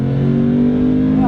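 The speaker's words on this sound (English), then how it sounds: "You step on the gas." A Ford Mustang Bullitt's V8 engine rises in pitch under acceleration, a loud steady drone with a voice heard briefly over it.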